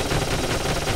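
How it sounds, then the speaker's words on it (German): Gunfire in the video game Dark Cloud is heard as a brief, dense, loud stretch of rapid shooting with a steady rattling texture and no talk. "Okay, wir schießen jetzt einfach nur drauf."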